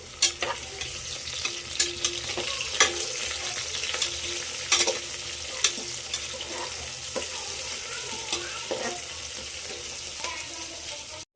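Cardamom frying in a pan while being stirred: a steady sizzle with a spoon scraping and clinking in an irregular rhythm, close and fairly loud, with no talking.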